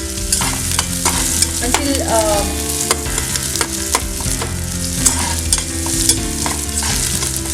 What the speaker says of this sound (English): Okay, now add onion, fry it